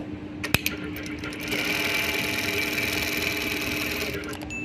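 A Brother 7250a sewing machine stitches, running a steady rapid mechanical whir after a sharp click and brief start-up, loud and close, ending with a slowing and a few small clicks.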